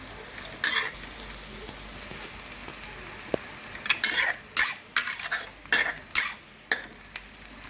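Shallots frying in oil, with a spatula scraping and stirring them in the pan. The bursts of sizzle and metallic clatter come faster and louder toward the end, over a constant low frying hiss.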